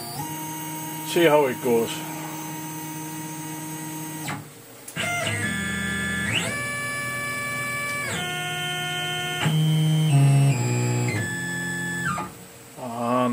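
A Tormach CNC mill with an end mill starts its cycle: steady electric hum and tonal motor whine stepping up and down in pitch through several stages, with brief talk near the start.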